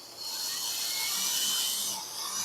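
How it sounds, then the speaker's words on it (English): A power drill bores a plumb hole through wood while an old home-built Dobsonian telescope is being rehabbed, giving a continuous high-pitched whine for about two and a half seconds at close range, with no voices. "See that I am drilling a plumb hole through here."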